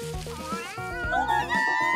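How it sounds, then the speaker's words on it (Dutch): A cat stuck in a tree meows in a few rising, plaintive calls, close and fairly loud, with other voice-like tones around it. "Er zit een kat vast in de boom."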